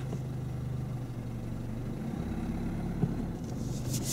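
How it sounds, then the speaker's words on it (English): A car engine idles and runs low as the vehicle creeps away at walking pace during a driving lesson, a steady close drone with a faint click near the end and a brief higher noise at the close, no speech. "put your engine on, prepare the car to go"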